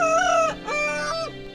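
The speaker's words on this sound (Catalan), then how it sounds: "Una mica més enllà es van trobar amb un gall que cantava tristament." Rooster crowing in an animated Bremen Town Musicians tale, a single drawn-out cock-a-doodle-doo in three rising and falling sections, close and clear with no talk over it.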